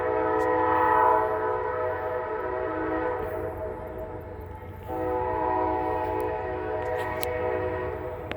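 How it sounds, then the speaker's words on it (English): A train rumbles steadily past at close range with a sustained horn-like harmonic tone that swells, dips briefly near the middle, then returns at full strength, loud and continuous with no talk. "Wait for the train."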